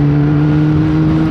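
A Kawasaki ZX10-R sport bike engine drones steadily with a loud, close, even tone as the throttle is released and it slows under engine braking.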